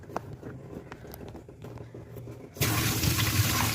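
A kitchen tap is opened for washing: soft handling clicks come first, then a sudden, loud, steady rush of running water that continues to the end, close by.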